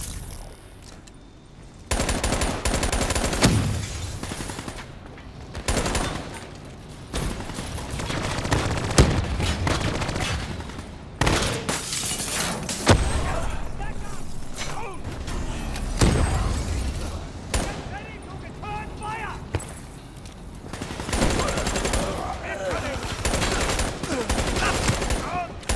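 Gunfire in the Call of Duty Black Ops 3 video game, loud bursts of shots and rapid fire clustered through the scene, mixed with impacts, clanks and game effects, with occasional voice under the action.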